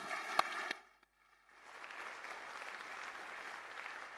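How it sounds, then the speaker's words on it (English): A short stretch of speech gives way, after a brief pause, to steady applause from the audience at an international finance investment summit, filling the room evenly for the panel speakers. "please, everyone, join me in applauding these gentlemen"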